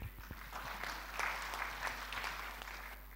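A church congregation at a Kikuyu-language Sunday service claps together, a steady wash of applause filling the space, fairly faint and distant, with a few sharper individual claps standing out.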